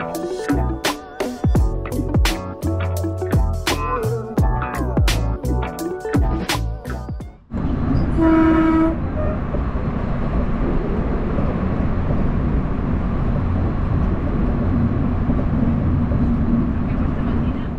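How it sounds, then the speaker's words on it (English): A commuter train running underground through central Barcelona toward Montserrat rumbles with a steady low roar and rattle after a stretch of music, continuous and close, with a brief tonal chime near the change. "this train is like an underground, so we are stopping at multiple underground stations in the city center of Barcelona"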